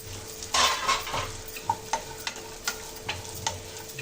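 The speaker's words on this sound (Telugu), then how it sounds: "ఇప్పుడు ఈ కట్ చేసుకున్న డ్రై ఫ్రూట్స్ వేసుకుందామండి. కొంచెంసేపు ఫ్రై చేసుకుందాం." Chopped dry fruits frying in ghee in a thick pan over medium flame, with a steady soft sizzle and a series of sharp spoon scrapes and taps against the pan, close and clear with no voices.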